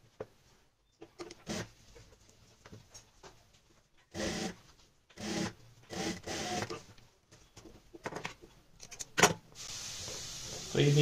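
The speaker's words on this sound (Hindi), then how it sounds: "यहाँ पे ऊपर से सिलाई लगाते हुए इसको ज्वाइंट करेंगे" Sewing machine stitching piping onto a kurti neck: intermittent bursts of whirring stitching separated by pauses, with a longer steady run at the end, and a person talking in between.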